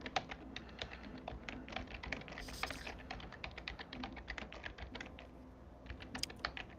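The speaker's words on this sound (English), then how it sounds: "You're typing away there." Steady typing on a computer keyboard, rapid irregular key taps in quick runs, close but quiet, with no voices.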